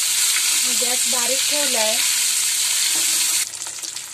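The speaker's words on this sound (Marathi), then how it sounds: "अंडी थोडी फ्राय करून घेणार आहे" Eggs fry in hot oil in a pan over a low gas flame, a steady loud sizzle under a woman's brief speech, with the frying thinning out near the end.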